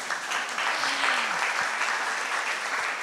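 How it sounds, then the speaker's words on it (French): Applause from the audience at an exhibition conference opening, a steady wash of many hands clapping for about three seconds, moderately loud with a brief faint voice underneath. "Alors, des applaudissements, mais vous n'êtes pas obligés."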